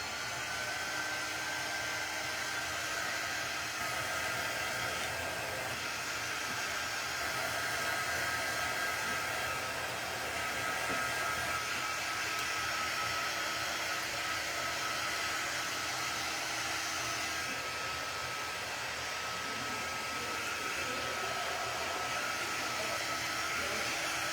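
A hair dryer blows steadily while drying a coat of paint on a Santa mold, a continuous loud airy whoosh with a faint whine that holds for the whole stretch, with no speech over it.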